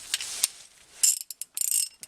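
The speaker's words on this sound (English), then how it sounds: "And I'm just going to get a wrench to tighten that." A wrench ratcheting as it tightens a B7HS spark plug into an engine during reassembly, quick bursts of close metallic ratchet clicks in short runs separated by pauses.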